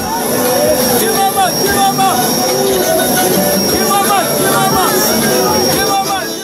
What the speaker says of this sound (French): l'Embraer 145 de la compagnie Fly the Jet a atterri dans la capitale diamantifère